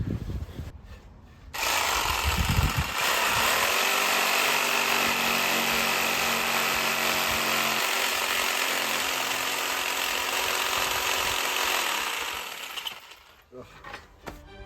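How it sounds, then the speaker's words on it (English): A jigsaw cuts rough shapes into wood on a big chair restoration, a loud steady buzzing rasp running nearly unbroken for about ten seconds, starting and stopping abruptly, with brief handling noise before and after. "I'm hoping to use the jigsaw to cut out the rough shapes"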